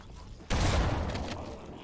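A single loud shotgun blast in Halo: Combat Evolved Anniversary on Legendary difficulty, an abrupt booming report after a quiet moment that decays over about a second into the game's background.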